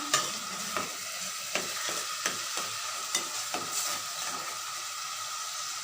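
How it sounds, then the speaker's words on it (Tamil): Tomatoes fry in a pan while cooking a mutton curry, a steady hiss of sizzling punctuated by regular scraping stirs of a spoon, close and fairly quiet, with no talking. "இப்போது கட் பண்ணி வச்சுருக்கிற தக்காளி ரெண்டு தக்காளி கட் பண்ணி வச்சுருக்கிறேன் அதை சேர்த்துக்கலாம்"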